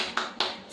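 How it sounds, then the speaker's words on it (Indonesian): Two sharp claps about a quarter second apart, close and moderately loud, part of a teacher-led class cheer in an Indonesian eighth-grade classroom lesson. "Tepuk semangat."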